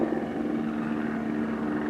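A Los Angeles Police Department helicopter flies overhead, its engine and rotor making a steady, even drone that holds unchanged for the whole two seconds, with no voices.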